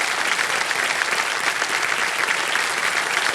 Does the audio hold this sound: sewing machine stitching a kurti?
no